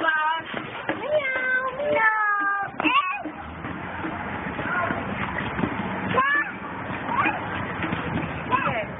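Several cat meows ring out, rising and falling, amid chatter and background commotion; some meows may be people imitating a cat.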